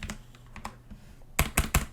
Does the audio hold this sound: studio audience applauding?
no